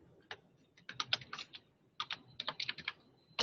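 Fingers tap out a date on a computer keyboard, then press Enter: clusters of crisp close keystrokes in short irregular bursts with brief pauses, ending in a harder final press, with no voices.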